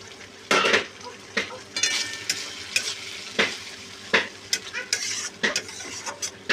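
Spice paste of cumin powder and green chilli paste, thinned with water, sizzles in hot oil in a kadai. A spatula scrapes and clatters against the pan in irregular bursts close by, with no talking.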